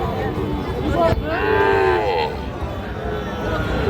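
Sahiwal cattle at a livestock market in Raniganj lowing, with a long drawn-out moo rising and falling over steady crowd chatter and nearby talk.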